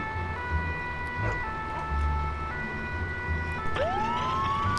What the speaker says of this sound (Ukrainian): Мені здається, треба включити сирену, щоб нас вже чули.